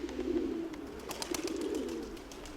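Pigeons coo in two soft, rolling phrases, close by, with faint rustling and clicks between the calls.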